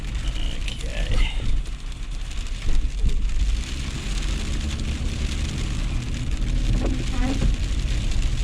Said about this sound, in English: It is absolutely freezing at the moment, and it's hailing.